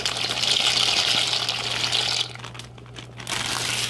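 Dry shell pasta pours into a pot of boiling water with a steady rushing, crinkling pour that cuts off abruptly, then the boiling gush resumes.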